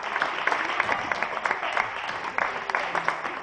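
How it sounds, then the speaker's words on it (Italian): Audience applause rings out at an outdoor parish festival magic show, a dense, continuous patter of many hands clapping through the whole stretch, fairly steady with small swells. "l'applauso di tutta la parrocchia"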